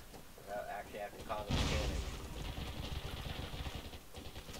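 Bursts of rapid machine gun fire in the video game Undawn, heavy booming shots with a dense rattling tail, close and loud.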